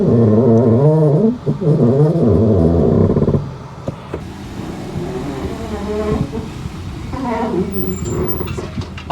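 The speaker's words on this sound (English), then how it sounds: "that anti-roll bar is rubbing against the drive shaft" On a VW Polo with newly installed coilovers, the anti-roll bar rubs against the drive shaft while driving, giving loud wavering mechanical groaning and whirring tones that drop away into lower road rumble and clunks.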